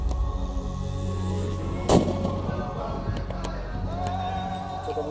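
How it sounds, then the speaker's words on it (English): A single sharp rifle shot from a dangerous-game rifle firing a Hornady DGX Bonded bullet into a cape buffalo on a field hunt, one crack followed by faint outdoor background noise. "I'm going to shoot slightly lower down on the scapula now"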